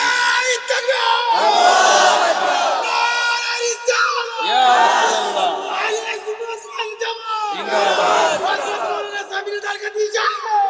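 A large crowd at a religious gathering in Madhabpur, Habiganj roars a loud, sustained takbir chant in several swelling waves, mixed voices bellowing together and close.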